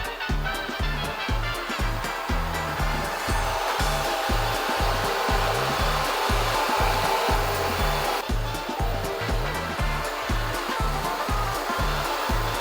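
A robot vacuum mop cleans a floor in a zigzag pattern, producing a loud, continuous motor whir with a rapid rhythmic low pulsing underneath, heard alone without talk.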